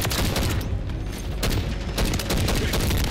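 Rapid bursts of automatic gunfire from a Sidewinder gun in a shooter video game, loud and close, with a brief lull before the firing resumes.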